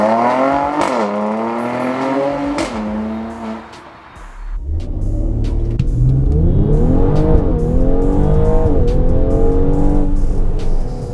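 A 2017 Mercedes-AMG GLC 43 Coupé accelerates hard through several gears, its engine note climbing and dropping at each shift, loud and close, then pulling strongly in a long sustained rise.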